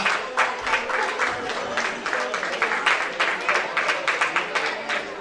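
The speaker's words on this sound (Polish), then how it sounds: "Wielkie brawa dla Mikołaja!" A crowd applauds Santa Claus at a sports club's St. Nicholas Day event, with dense, rhythmic clapping throughout, peaks of louder claps, and faint voices mixed underneath.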